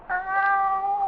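A single drawn-out cat meow, close and clear, holding a steady tone for about a second.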